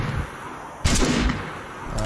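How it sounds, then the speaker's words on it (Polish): Gunfire in the video game DayZ: one sharp, loud shot bursts in near the start, followed by a quieter lingering tail and a second weaker report at the end, with no talk over it. "O, trzy strzały."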